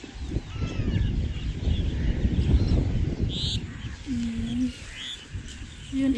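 Birds call at Jumeirah Bay in Dubai, with a few short, clear chirps and coos over a steady rush of wind and water.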